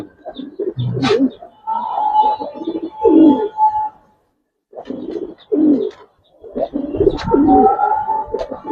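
Afsan Bagha and coloured fancy pigeons coo repeatedly in a loft, soft, throaty bursts close by, with brief pauses between calls.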